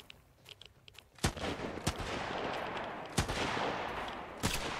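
AK rifle fire in the Sunkenland survival game, with sharp gunshots cracking out in scattered single reports and short bursts over a steady background rumble, moderately loud and without speech.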